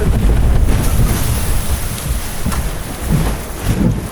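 Sea waves wash in close by with steady wind buffeting the microphone, a continuous loud rush beside the water near an amusement park, with no speech.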